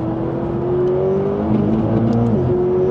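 A McLaren 540C sports car engine revs loud and close, a smooth rising and falling mechanical whine with a brief dip as the pitch shifts.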